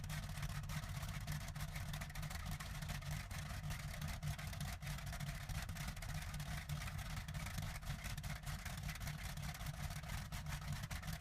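A Bristol Hercules radial aircraft engine of nearly 2,000 horsepower runs on a mobile test platform, giving a continuous, loud, rough drone that holds steady throughout.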